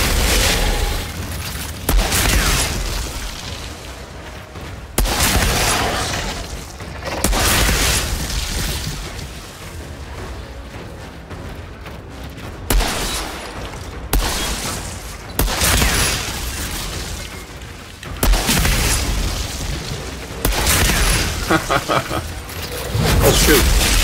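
Explosions and gunfire in the video game Outriders, playing as a Pyromancer in a quarry: repeated heavy booming blasts and bursts of shooting arrive every few seconds, loud and close, with a voice talking in between.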